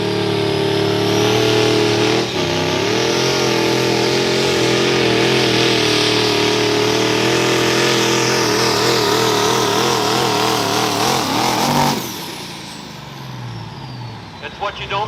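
A pickup truck's engine roars under load during a truck pull, a loud, sustained rev that wavers in pitch, then cuts off near the end and drops away, leaving quieter rumble and a short burst.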